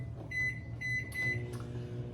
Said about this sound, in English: you're going to stick them in the microwave for about 30 seconds